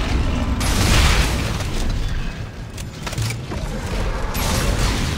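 A tank enemy in Dead Space 2 firing into the air, loud heavy booms with mechanical clanking, a dense rumbling barrage that swells and eases over several seconds.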